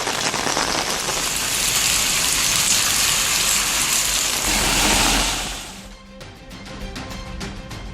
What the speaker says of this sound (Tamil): உளுந்தூர்பேட்டை மற்றும் அதன் சுற்றுவட்டார பகுதிகளில் கனமழை பெய்தது.